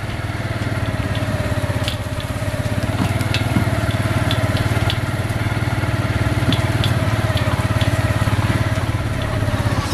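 A motorcycle engine runs steadily at idle or low speed. A continuous low rumble with a buzzing texture plays close to the listener, with faint clicks and rattles on top and no talk.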